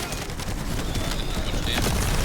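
Rapid automatic gunfire from a weapon in the looter-shooter game The First Descendant, a dense continuous stream of shots packed with bursts and game effects, steady and loud for the whole stretch.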